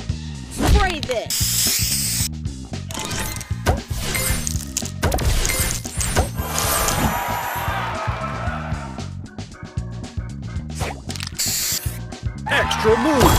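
Spray booster effect in the Color Crystals puzzle game, heard as hissing spray bursts among crashing, clinking tile-smash sounds and rattling game effects, continuous and busy throughout.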